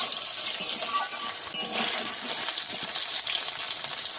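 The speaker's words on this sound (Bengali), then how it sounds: "ভালো করে ভাজা হয়ে গেছে, দিয়ে দেবো এবার ডাল।" Lentils tipped into a hot pan of rice and mustard-seed tempering, giving a steady, close hiss of frying with a few scattered clatters and no talk.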